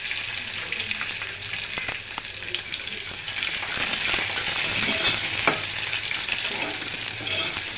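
A tempering of cumin, mustard seeds, chana dal, dried red chillies, curry leaves and onions fries in hot oil, a steady close hiss with occasional pops and stirring scrapes.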